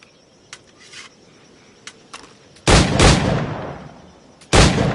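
Firearm shots ring out in Assassin's Creed Black Flag, a few faint distant cracks followed by two loud, close blasts with long decaying tails.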